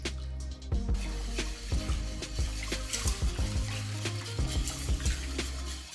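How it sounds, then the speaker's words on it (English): Salt, sugar and oil stirred together for simit dough, a steady rhythm of close, repeated scraping and clinking strokes in a bowl, with a low hum underneath and no talking. "I stir a little until the ingredients are melted"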